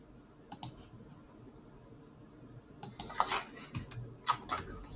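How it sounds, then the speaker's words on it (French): Computer mouse clicks while working in GeoGebra software, a few sharp clicks near the start and a cluster of quicker clicks later, close and fairly quiet over a low background hum. "on clique sur le vecteur et je vais mettre afficher l'étiquette"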